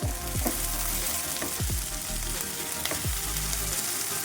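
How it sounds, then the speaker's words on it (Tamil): Ingredients for a South Indian bitter gourd stir fry sauté in a pan with a constant close, loud sizzle, broken by repeated scraping strokes of a spatula. No one talks. "இதை கொஞ்சம் நல்லா வதக்குவோம்"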